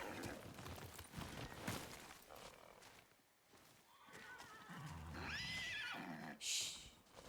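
Horses whinny and neigh in a tense scene from the video game Ghost of Yōtei, several loud calls with hoof clatter and shuffling around them, one shrill high cry near the end.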